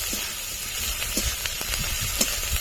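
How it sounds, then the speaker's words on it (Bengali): Ginger and garlic fry in hot oil with turmeric, for a fish curry of pangas, producing a close, steady sizzle and hiss broken by small crackles and pops, with no voices. "আদা রসুন কিছুক্ষণ ভেজে নেব।"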